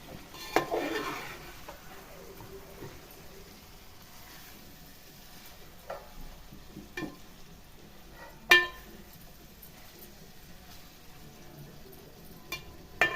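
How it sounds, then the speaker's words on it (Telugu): Fish curry gently stirred in a pot, mostly a quiet low bubbling background broken by a few soft scrapes and occasional sharp clinks of the spoon on the rim. "ఒక 10 నిమిషాలు ఆగి ఇలా మెల్లగా కలపాలి"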